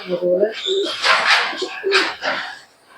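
Pigeons at a loft cooing, several soft throaty coos repeating in short bursts, close by, mixed with brighter bird calls.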